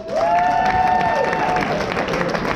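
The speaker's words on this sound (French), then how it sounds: "Julien Songeon, on peut l'applaudir bien fort" Audience applause at a live variety show in Chapelle d'Abondance, a dense clapping roar from a crowd, with a brief whistle-like tone riding over the start before the clapping thins.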